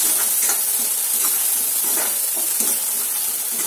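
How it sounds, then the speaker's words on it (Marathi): Ground masala paste sizzles steadily in hot oil as it is sautéed for a chavli (black-eyed pea) curry, a loud continuous frying hiss with soft stirring scrapes throughout. "यालाही छान तेलात परतून घ्यायचं।"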